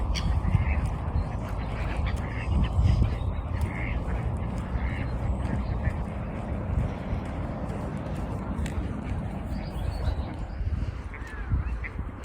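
Geese honk and call in a noisy outdoor flock, a dense steady clamor of overlapping squawks with wind and background murmur throughout.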